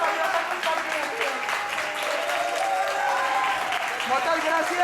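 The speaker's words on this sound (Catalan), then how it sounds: "un aplaudiment a aquesta meravellosa companyia." Applause from a theatre audience for a theatre company at Lluïsos Teatre, a dense, even roar of many hands clapping for several seconds, with faint voices mixed in.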